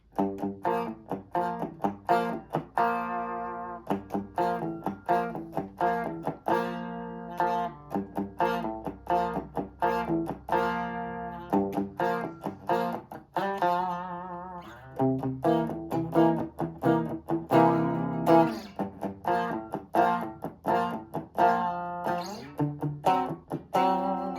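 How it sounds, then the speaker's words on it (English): Electric guitar lesson playing three chords with a short lead lick; clean, steady strummed chords and picked notes with a bright, fairly loud tone and no talking. "I'm gonna go through those 3 chords with a little lick in there"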